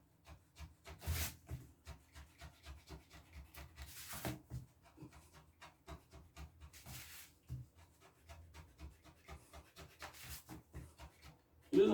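A hole being cut in the floor for a toilet wax ring, a steady back-and-forth rasping saw stroke at close range with periodic louder bursts, fairly quiet overall.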